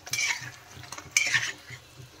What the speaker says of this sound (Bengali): এপিট ওপিট করে ভালো করে আমি ভেজে নেব মোমোসগুলো।